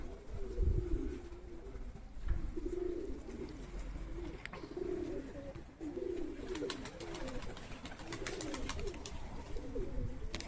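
Domestic pigeons coo repeatedly in a steady rhythm near a loft, with low throaty calls recurring through the whole stretch and a few faint chirps and rustles in the background.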